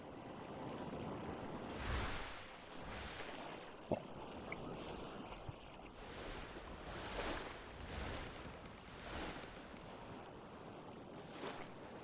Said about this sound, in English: bouncing my way a little bit along the waves